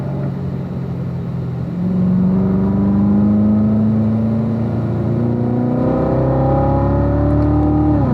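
A car engine pulls hard out of a corner on a track: low idle-like drone, then a rising rev from about two seconds in, settling and climbing again in pitch, loud and near with no talking.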